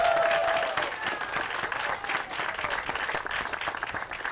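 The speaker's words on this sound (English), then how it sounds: "Please give her a round of applause." Audience applause greets Anita Jenkins at a housing groundbreaking ceremony, a sustained clapping crowd with some cheering, fairly close and steady throughout.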